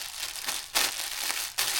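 Clothing being packed into a plastic mailer bag, with bursts of loud close crinkling and crushing that swell and break off a few times in quick succession, no voices.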